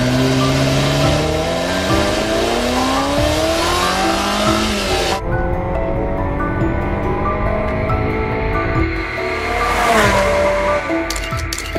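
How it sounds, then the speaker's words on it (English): A 1984 Ferrari 288 GTO supercar engine revs loud and close, its pitch climbing through the gears, then it drops away sharply and surges again with a brief tire squeal near the end. "1984 Ferrari 288 GTO."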